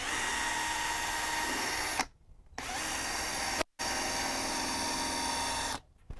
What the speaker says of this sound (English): we've got our polishing attachment on here and we've got about that much compound